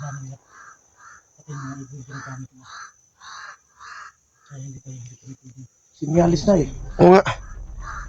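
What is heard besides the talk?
noisy birds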